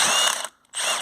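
A ratchet undoing small T30 bolts on a Ford Focus front suspension strut, two loud close bursts of rapid clicking separated by a brief pause.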